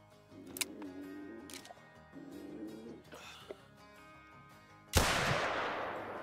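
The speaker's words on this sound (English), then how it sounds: "Perfect shot." A single sharp rifle shot from a new rifle fired at a mule deer in the hunting game Call of the Wild, a sudden loud crack with a lingering tail after quieter game ambience.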